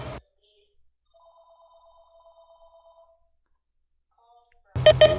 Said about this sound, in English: I'm gonna have to let that phone ring.